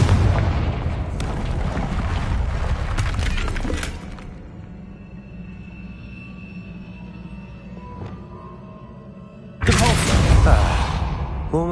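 A Confringo fire spell blasts with a loud burst in a Harry Potter video game, the heavy explosion cutting in abruptly near the end after a stretch of quieter rumbling ambience and an earlier loud, crackling passage.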